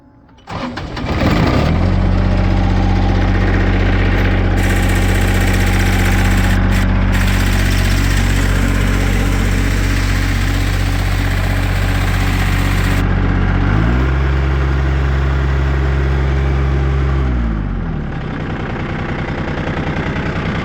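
A Case DX18E 4x4 compact tractor with a hydrostatic drive cranks briefly, catches, and settles into a loud, steady diesel idle up close, with a short change in engine tone near the end.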